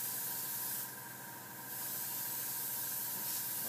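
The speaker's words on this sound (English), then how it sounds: "Hopefully the compressor's not too loud guys." An airbrush compressor runs steadily while AutoAir paint sprays, a continuous broadband hiss that dips briefly in the middle before resuming, with no voices.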